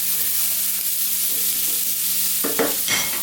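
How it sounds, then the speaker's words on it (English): Mushrooms, zucchini, eggplant and other vegetables stirred and frying in a pot over medium heat for a bean chili, giving a steady soft sizzle, with a few louder scraping, clattering stirs near the end. "on this medium heat, let's throw that around just for about 4 minutes"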